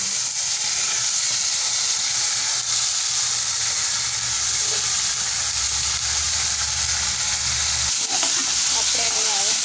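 Moong lentils hit hot frying masala in a pan and sizzle loudly and steadily, a dense hiss with light stirring scrapes and a brief clatter near the end.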